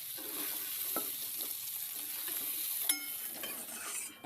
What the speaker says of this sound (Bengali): এখন উচ্ছে আর আলুটা ঠিক এরকমভাবে ভেজে নিয়ে এবার তুলে রাখছি।